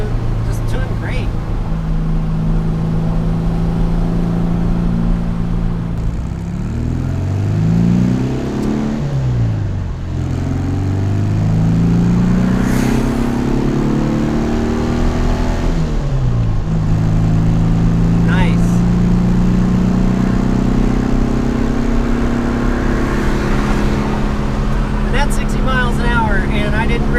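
A Porsche 356C engine pulls hard up a big hill on a shakedown drive, a loud, continuous in-car drone with rising revs, dips at gear changes, then climbing again. Voices talk over the engine throughout.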